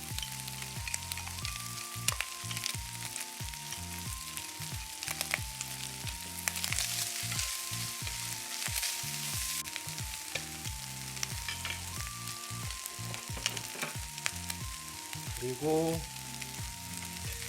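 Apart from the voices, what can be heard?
bacon, onion and chwinamul frying in pan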